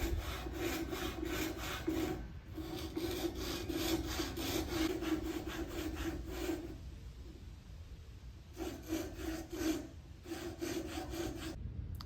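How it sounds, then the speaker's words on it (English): A DeWalt pull saw cuts through walnut wood in quick, regular back-and-forth strokes, close and rhythmic, with two short pauses between runs of rasping sawing. "I'm going to simply start sawing"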